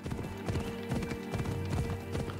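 Horse hooves clip-clop steadily and fast in Assassin's Creed Odyssey, a dense galloping rhythm of several overlapping horses up close, loud and continuous with a busy game soundscape behind.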